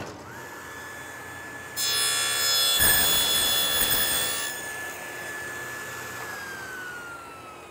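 A table saw fitted for box joint work cuts the first notch in a wooden board: steady motor whine with a brief louder burst as the blade bites through the stock, then the motor runs on alone.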